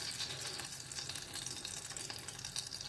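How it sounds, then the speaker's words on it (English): Onion bhaji mixture sizzling in hot oil, a steady, fairly quiet crackling fry with no talking. "we're just going to add one of the onions into the oil to see if it's ready"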